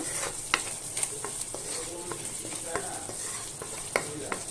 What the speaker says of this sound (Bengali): আটাটা ভালোভাবে কষিয়ে নিচ্ছি